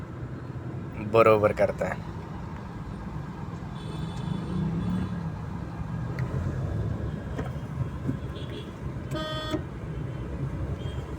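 A car driven by a 71-year-old learner pulls away from a green signal through heavy city traffic, a steady low engine rumble under speech, with two bursts of nearby car horns honking.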